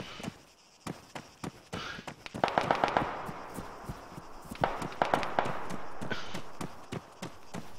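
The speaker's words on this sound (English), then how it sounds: "I'm under fire!" Gunfire in the military video game Arma 3 cracks out in sharp single shots and quick bursts, some close and punchy, others more distant, over a low background hum.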